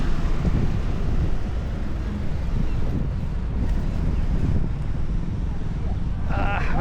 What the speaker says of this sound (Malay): Oh, angin kuat oh.